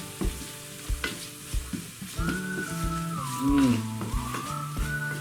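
Whole garam masala spices sizzle and fry in hot oil over a medium flame for an Indian village-style beef soup, a steady crackling hiss with a few soft stirring knocks, no voices.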